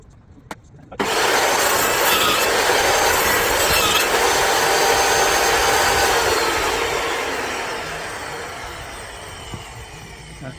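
Timber for a window frame is being cut with a continuous, loud, close rasping saw for about six seconds after a brief quiet start, then the noise gradually eases off near the end.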